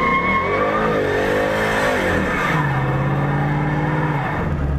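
A 2015 Ford Mustang GT V8 holds a line lock burnout in Dubai, its engine revving loud and close in a continuous roar that swells and falls in pitch, with tire noise underneath.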